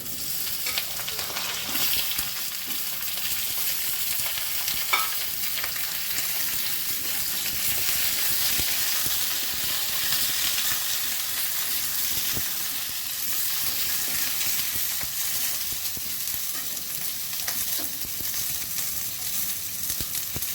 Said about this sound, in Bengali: আলুটা ভাজা হয়ে গেছে, এবার বেগুনগুলো দিচ্ছি